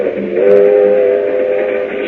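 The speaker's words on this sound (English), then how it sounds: "Meanwhile, on a train to Miami." A radio-drama sound effect of a train bound for Miami, with a loud, sustained steam-style whistle held for about two seconds over the rolling rumble of the cars, close and prominent.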